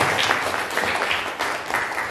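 Applause from a classroom audience during a teacher training session, a steady wash of many hands clapping, fairly loud and close, lasting throughout.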